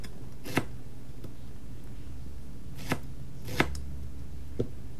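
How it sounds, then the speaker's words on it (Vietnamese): A knife slices leeks crosswise into pieces about 1 mm thick for frying, giving a few sparse, sharp cuts against a board at irregular intervals over quiet background hiss. "Xắt thì bạn có thể xắt ngang hoặc là xắt dọc, nhưng hôm nay mình sẽ chọn xắt ngang."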